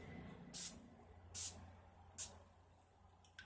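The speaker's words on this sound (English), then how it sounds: "So I'm going to set my face. I'm going to use the Urban Decay All Nighter Setting Spray." Urban Decay All Nighter setting spray is misted onto a face in three short, evenly spaced hissing bursts, close and fairly quiet in a still room.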